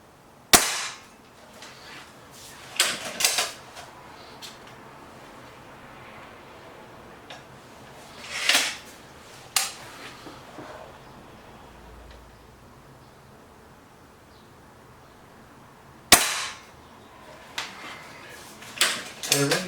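Webley VMX Quantum and BSA Lightning SE air rifles fire in turns, each shot a sharp, isolated crack spaced a few seconds apart over quiet background.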